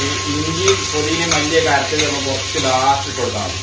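Mustard seeds popping and sizzling in hot oil while making a green apple pickle, a steady close frying hiss running continuously beneath a person talking.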